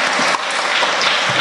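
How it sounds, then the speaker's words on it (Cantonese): Audience applause at an evening talk on Hong Kong's response to climate change: dense, even clapping from a crowd that fills the whole short moment without a break. "我哋俾掌聲。"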